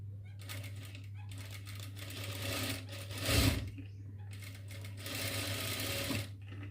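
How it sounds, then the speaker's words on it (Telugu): Sewing machine stitching the shoulder seams of a double-lined frock, a steady close mechanical whirr in two bursts with a louder clunk between them, with quiet talk. "ముందు ఈ షోల్డర్స్ కుట్టేసుకోండి"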